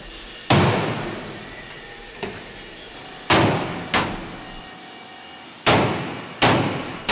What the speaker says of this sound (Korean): 여기저기 망치질에 여념이 없다.